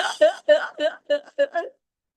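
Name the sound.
storyteller imitating a donkey braying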